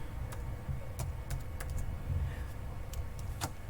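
Someone types Arduino code on a computer keyboard in quick, uneven bursts of crisp clicks, close by and fairly quiet, with no voices.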